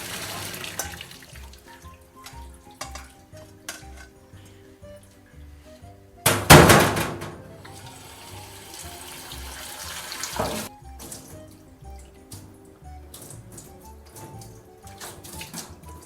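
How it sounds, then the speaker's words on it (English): In a kitchen, hot water is poured off while cooking: a sudden splashing gush into a sink stands out against quieter clinking and faint background, followed by a smaller splash. "We're going to strain the hot water."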